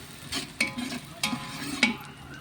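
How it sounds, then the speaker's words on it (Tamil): Onions sauté in a pan for chicken biryani under a soft, steady sizzle, with three sharp spoon clicks against the pan at intervals. "வெங்காயம் நல்லா வதங்கணும்"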